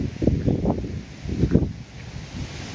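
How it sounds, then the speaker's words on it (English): Gusty autumn wind in a forest in Holland buffets the microphone in rough, low rumbling surges, swelling twice and then easing into a steady blustery roar. "It is like very windy indeed."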